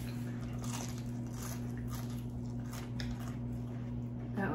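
Crunchy Zaxby's fried chicken being bitten into, with a string of crisp crunching bites up close over a few seconds and faint talk in the background.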